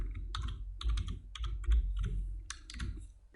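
Close computer keyboard typing in quick bursts of clicking keystrokes with short pauses between, clear and moderately loud with no voices.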